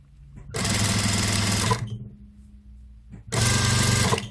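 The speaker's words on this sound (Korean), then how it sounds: "대박음을 해서 이렇게 잘 맞춰서 이렇게 박아주세요" Sewing machine stitching fabric for semi-wide pants: two loud, fast mechanical bursts of needle hammering, about a second each, separated by a quiet pause, with a low motor hum between them.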